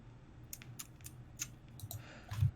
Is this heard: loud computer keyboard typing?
yes